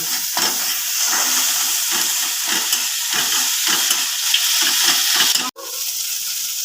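Ground spices and tomato paste fry in oil in a pan, a loud continuous sizzle pulsing with repeated stirring strokes, then a sharp clatter near the end before the hiss continues.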